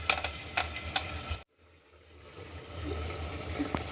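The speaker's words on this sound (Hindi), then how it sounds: "इसमें हमने अब डाल दिया पानी, सोया चंक्स," Water and soya chunks going into a cooking pot for a potato and pea curry, a few clinking knocks and sizzling, a brief silent gap, then a steady hissing rush of liquid, close up.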